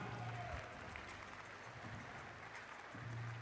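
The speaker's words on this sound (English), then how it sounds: "let's give DJ Shannon Hill a big round of applause" Audience applause at a women's summer league basketball game, a steady broad clatter of clapping from a crowd in an arena, sustained throughout at moderate level with some low hum underneath.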